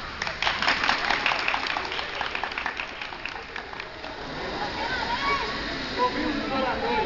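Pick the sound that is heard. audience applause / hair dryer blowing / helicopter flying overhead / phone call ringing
audience applause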